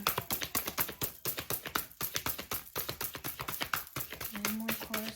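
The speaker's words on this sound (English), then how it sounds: "Let me shuffle one more time." Tarot cards shuffle in quick, rhythmic bursts of sharp riffling taps, close and fairly quiet, repeating steadily with brief gaps, and a short hum or voice joins near the end.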